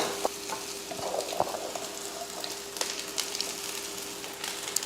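Onions sauté in a pan on a low flame as cooked white rice goes in, giving a gentle continuous sizzle broken by a few soft scraping taps, with no voices.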